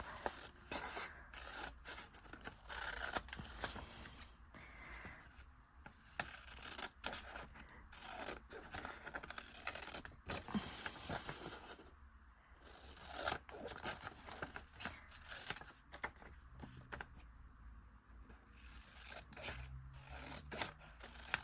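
Scissors trim paper for a Christmas-movie themed junk journal, with steady snipping, scraping and rustling of sheets close by through most of the stretch, with brief pauses and no talk.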